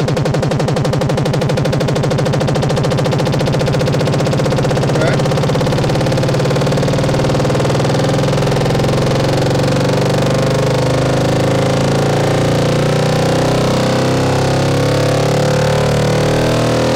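A loud engine runs continuously, rough and droning, with a steady mechanical chug and no clear rise in pitch.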